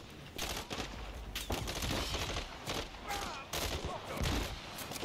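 Rapid bursts of automatic gunfire crackle through a Modern Warfare 3 campaign firefight, with friendly fire hitting an ally; dense, repeated volleys come close together with brief gaps, and a voice talks faintly underneath.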